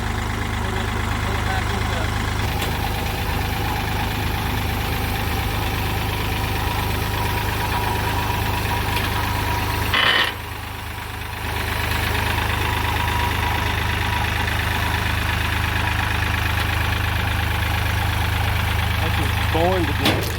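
A Kioti CK3510 tractor idling near a trailer, a loud steady low engine rumble that dips briefly midway, then returns to the same even drone.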